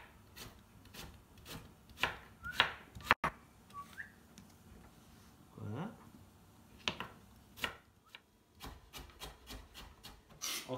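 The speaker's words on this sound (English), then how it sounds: "we're gonna cut in cubes" Knife chopping pumpkin into cubes for gnocchi with pumpkin and bacon, a run of sharp, uneven chops on a board close by, with scattered knocks and light handling noise between the cuts.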